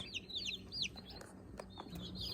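Chicks peeping in a box among a mixed batch of shipped poultry including jumbo Cornish cross meat birds, high rapid chirps repeating through the clip over a low background rumble, close by.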